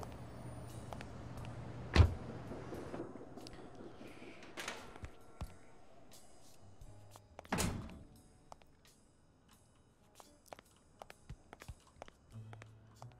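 In the video game Blacksad: Under the Skin, a gorilla punches a boxing bag. A few heavy thuds land, with softer knocks and clicks scattered in between, heard at a moderate distance.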